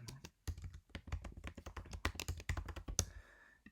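Rapid typing on a computer keyboard, close and quiet, with irregular clusters of crisp key taps and a firmer thunk near the end.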